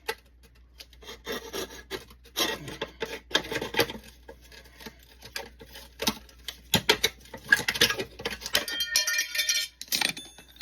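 Tin snips cut sheet metal during a brake upgrade on a BMW E61 wagon, a series of irregular close snipping and crunching bursts with scraping handling noises between them, no talk.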